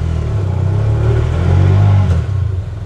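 A tuk-tuk with a manual motorcycle-style gearbox revs loudly up close, its engine droning and rising in pitch before dropping back near the end, with no voices.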